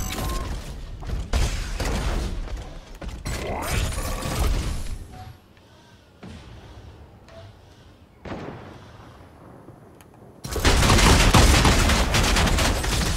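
Heavy gunfire in Fortnite: rapid clattering volleys and mechanical clanks in the first few seconds, a quieter lull with scattered shots, then a dense, loud burst of sustained fire at the end.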